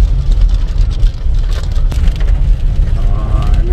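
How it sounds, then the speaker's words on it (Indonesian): Rain patters on a car driving through Medan, a dense, steady hiss and tapping heard from inside the cabin over low road rumble. "Oh ini pemirsa hujan."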